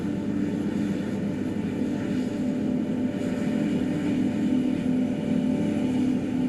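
SPMT self-propelled modular transporters give off a steady, unbroken mechanical drone while rolling SpaceX Booster 20 out to Pad 2 for testing. The hum stays even and continuous throughout, with no talking.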